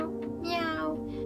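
A cat meows once, drawn out and close, in an animated horror comedy about a cat fighting an aswang. The call may be a voice imitating a cat.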